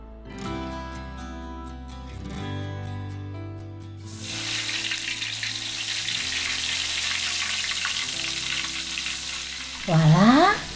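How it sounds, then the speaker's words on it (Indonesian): Tempe fries in a pan with a steady, dense sizzle that grows after the first few seconds, playing over a soft musical background and ending with a brief louder swell. "Lagi masak tempe goreng kesukaan ibu."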